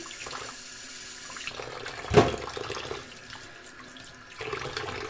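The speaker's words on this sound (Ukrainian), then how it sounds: "Зараз їх добре промиваємо під водичкою." Fatty beef ribs are rinsed under a running kitchen tap, a close steady stream of water with a louder splash as the meat meets the flow, the pour shifting in tone throughout.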